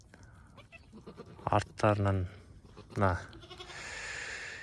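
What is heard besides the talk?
goats and newborn kids bleating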